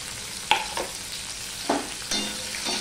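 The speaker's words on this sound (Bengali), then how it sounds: "এবার আমি উচ্ছেটা ভেজে নেব।" Bitter gourd frying in hot oil, with a steady sizzle broken by a few sharp clinks and scrapes of a spatula stirring the pan, close and clear with no talking.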